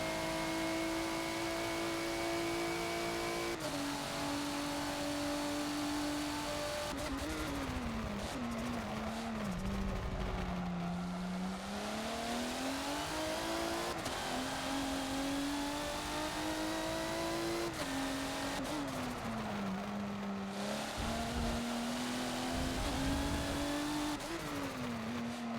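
Race cars in Forza on the VIR Grand West track drone and rev continuously, engine pitch climbing and dipping through gear changes and corners, with occasional tire squeal and no talk.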